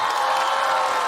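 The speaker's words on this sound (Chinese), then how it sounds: "我们掌声再给妮达" A studio audience applauding for Nida, a steady, even wash of clapping hands with light cheering, sustained and fairly loud through the short moment.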